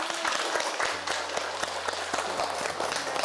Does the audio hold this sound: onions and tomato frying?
no